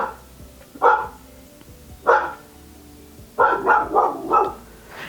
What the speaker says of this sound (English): my dog keeps barking